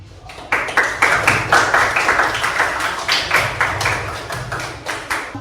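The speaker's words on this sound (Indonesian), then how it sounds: "Coba sekarang Ibu minta tepuk tangannya untuk kelompok 1." Classroom students clap for a group in rhythmic, unison claps after a brief pause, a loud, regular pattern of sharp claps repeating about every half second for several seconds.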